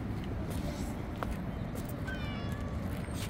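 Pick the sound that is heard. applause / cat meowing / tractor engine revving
cat meowing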